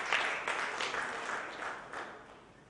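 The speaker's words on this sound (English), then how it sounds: "Please welcome him with a round of applause." An audience at a ports summit applauds, a steady patter of many hands clapping at moderate distance that gradually fades.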